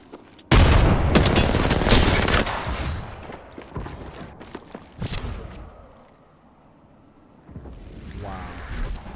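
Loud bursts of rapid gunfire and explosions from Apex Legends on Nintendo Switch, with a heavy opening blast and dense firing that thins out, then returns more faintly near the end.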